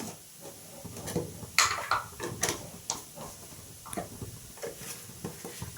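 Spoon stirring ground spices, black pepper and coriander, in a pan over low flame for a spring onion stalk dish, with scattered scraping and clinking strokes and faint sizzle, no talking.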